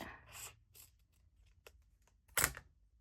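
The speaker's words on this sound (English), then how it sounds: "This part here needs to get cut out a bit." Scissors cut paper close up in a quiet room, making several short, soft snips, the last cut the loudest and sharpest.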